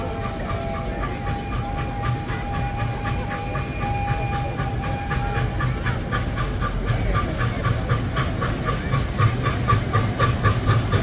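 A narrow-gauge steam locomotive hisses steadily with rhythmic chuffing beats, loud and continuous, over a deep rumbling background.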